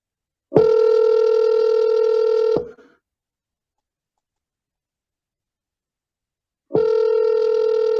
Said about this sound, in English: So our next call is to Anthony K. Kale, I got his phone number here, and I'm ready to give him a call if you're ready.